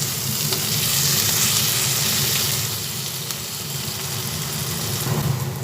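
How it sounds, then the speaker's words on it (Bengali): A loud, steady sizzle of onion and garlic frying in a pan for milk chicken curry, a constant hiss with occasional crackles and soft stirring. "পেঁয়াজ আর রসুনটা ভাজা হচ্ছে"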